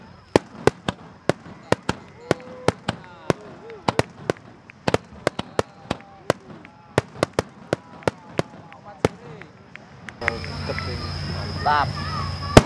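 Repeated sharp fireworks bangs and crackles pop in irregular succession at a Japanese festival, some distant with whistling trails, ending in a louder jumble with background noise.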